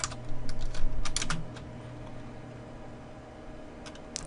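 Quick bursts of typing on a computer keyboard while writing HTML for an online survey form. Close, crisp keystrokes cluster early, then thin to a few isolated taps over a quiet background hum.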